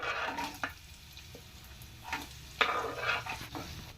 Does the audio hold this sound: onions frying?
yes